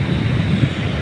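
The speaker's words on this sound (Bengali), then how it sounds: "আর সাগরের গর্জন আপনারা শুনতেছেন" The sea roars at Lal Kakrar Char island beach near Kuakata: a continuous low, rolling rumble of surf mixed with wind, steady and fairly loud throughout, with no speech.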